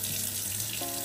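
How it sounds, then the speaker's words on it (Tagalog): Water runs and splashes steadily as it is poured into an aroma diffuser, a continuous close trickle with a brief shift in tone near the end, no talking. "Lagyan na natin siya ng tubig."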